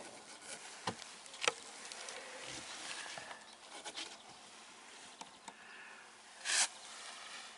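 Bees buzzing inside an experimental beehive, a faint steady hum with occasional louder passes of individual insects close by.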